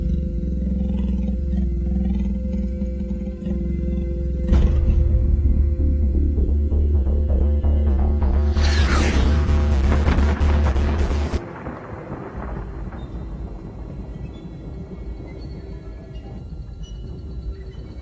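An atomic bomb explosion builds into a deep, loud, thunderous rumble, swelling in the middle before cutting off abruptly into a fading low drone.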